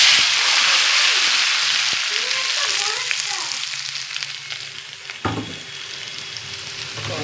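Meat hits hot oil spiced with cinnamon, cardamom and cloves, giving a loud, continuous sizzle and crackle up close that eases slightly as it is stirred, with a few scraping knocks.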